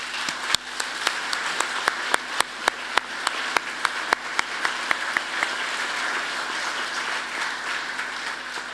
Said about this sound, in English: So let's give them a big applause,